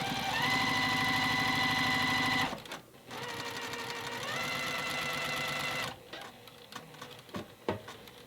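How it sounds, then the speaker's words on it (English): A sewing machine stitches a straight quarter-inch seam through quilting fabric, running loud and steady with a rapid mechanical chatter, pausing briefly near three seconds, then running again before stopping at about six seconds. "so 1/4 inch seam, and we're just sewing a straight line here first."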